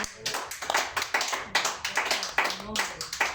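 A church congregation claps in a quick rhythm, a run of distinct, evenly spaced bursts of hand claps at moderate volume, with murmured voices underneath between the beats.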